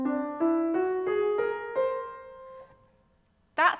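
Whole tone scale played note by note on a pitched instrument, six clear tones stepping upward in an even rhythm, then ringing out before a brief bright chord-like burst at the end.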